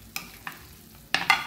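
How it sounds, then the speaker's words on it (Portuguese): Roasted eggplant with bell pepper, onion and garlic, fresh out of the oven, bubbles hot in its pan, giving a few separate sharp sizzling crackles against a quiet background. "Olha, tá fervendo, gente."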